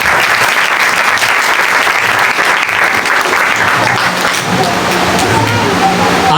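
A church congregation at an Urdu-language sermon claps loudly and continuously, a dense wash of hand claps filling the whole stretch, with voices faintly mixed underneath.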